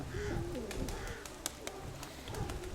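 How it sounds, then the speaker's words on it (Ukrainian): Low, rolling pigeon coos repeat a few times against a steady background murmur, with a couple of sharp clicks or taps in between. "Ця в пару йде голубка."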